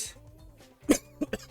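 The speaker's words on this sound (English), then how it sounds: "Dry cough." A few dry, harsh coughs from a person, one loud burst followed by two or three shorter ones close to the microphone, with brief quiet before.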